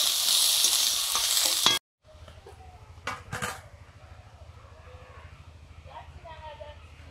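Vegetables frying in a pan for vegetable dal: a loud sizzle runs for under two seconds, then cuts off abruptly. Quiet utensil clinks follow while a person talks.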